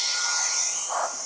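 A YOYOTO high-speed air duster blasts a steady, loud hiss of air across a grill, clearing dust from its grooves, continuous and close for the whole moment.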